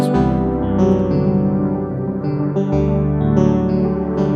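A bright synth plays a rapid arpeggiated melody over a sustained bass, with stepping note patterns and a processed, slightly distorted electronic tone throughout.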